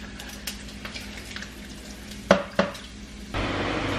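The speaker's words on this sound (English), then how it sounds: "I'm stirring up some bacon right now." Bacon frying in a pan while being stirred, with a low sizzle, light scraping, two sharp metallic clinks of utensil on pan, then a louder steady sizzle at the end.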